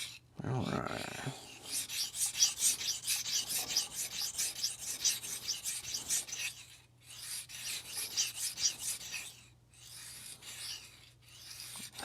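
Knives stacked and touching on a drill press table rattle as the table slides back and forth, giving a steady run of close, scraping rattles that pause briefly and resume, with a low steady hum underneath.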